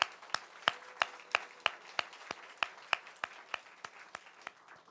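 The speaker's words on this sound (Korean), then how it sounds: "우리 다시 한번 박수로 격려하겠습니다" A church congregation claps together in a steady, even rhythm, with sharp, evenly spaced claps repeating for several seconds. The sound is fairly close, with a faint roomy wash between beats and no talking over it.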